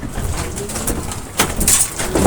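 Racing pigeons arriving during a pigeon race: nearby cooing and soft bird calls with some rustling over steady background noise.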